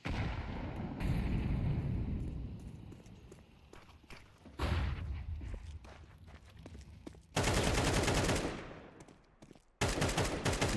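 MP9 submachine gun fire in a competitive shooter match, rapid bursts of close, loud automatic shots in several separate sprays, with other gunfire and footsteps between them.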